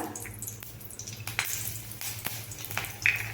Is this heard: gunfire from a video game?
no